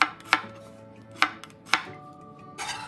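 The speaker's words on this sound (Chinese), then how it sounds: "再将80克小红葱切片" A knife slices small red shallots on a board, giving four sharp, distinct cuts at uneven intervals, close and crisp, followed by a brief rustle of the pieces, with no talking.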